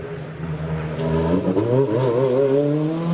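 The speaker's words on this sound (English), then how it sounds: "Off it goes now, revs and revs and revs, and off he goes, four-wheel drive, scorches off the line" Four-wheel-drive rally car at a hillclimb, engine revving with rising, sweeping pitch as it launches off the start line, loud and close with no talk.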